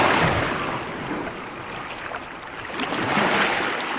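Sea waves washing onto a wild beach, a broad continuous rush of surf swelling, easing in the middle and building again, with no voices.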